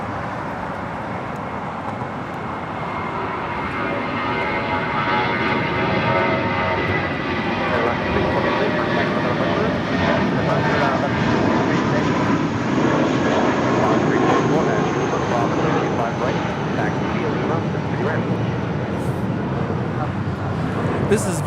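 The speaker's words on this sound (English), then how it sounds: "This is Viva Aerobus 623 departing to Monterrey, Mexico on an A320." A Viva Aerobus Airbus A320 jet departs Los Angeles International Airport with a loud, sustained engine roar that holds steady throughout, with speech faintly audible beneath it.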